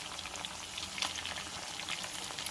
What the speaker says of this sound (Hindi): 10 से 12 मिनट लगेंगे इसको फ्राई करते हुए